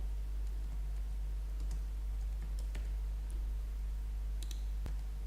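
Sparse keyboard clicks from typing text into a code editor, a few scattered keystrokes over a steady low background hum, close and fairly quiet.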